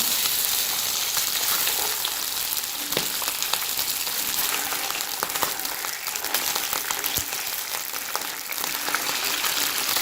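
Fish pieces fry in hot oil in a pan for fish curry, giving a steady, dense sizzle with crackling pops from start to finish and no talking.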